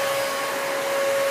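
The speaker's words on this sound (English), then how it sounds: "the same test the same way I did with the Hoover" A Hoover WindTunnel 2 Rewind Pet vacuum cleaner runs with a steady, loud motor whine and airy rush that holds constant throughout.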